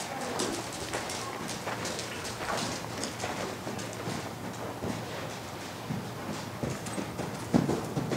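Horse cantering around a riding ring during a riding lesson, its hoofbeats a soft, steady rhythmic drumming spread evenly across the whole stretch, with birds cooing and chirping in the background.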